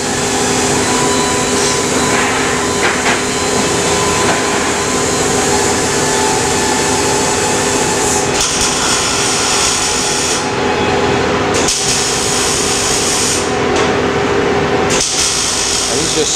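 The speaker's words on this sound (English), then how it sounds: "just putting tack welds to hold it all together" A MIG welder tacks together a sheet-metal housing for an optical comparator in a metal fabrication shop, giving a loud, steady hissing buzz that briefly cuts out between tack welds, with voices faintly underneath.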